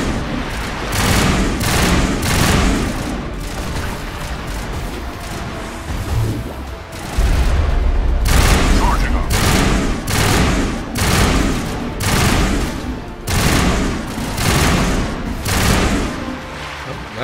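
Gunfire in the sci-fi shooter Mass Effect, with loud repeated bursts of automatic fire and heavier impacts in irregular clusters throughout, separated by brief lulls.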